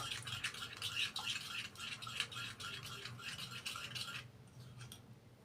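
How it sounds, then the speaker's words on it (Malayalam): A fenugreek face pack paste is stirred briskly, producing rapid, rhythmic wet scraping and rubbing strokes close up for several seconds before the mixing stops. "അപ്പോൾ നന്നായിട്ടൊന്ന് മിക്സാക്കി കൊടുക്കുക"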